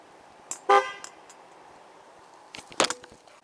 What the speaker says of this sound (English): let's hear that horn.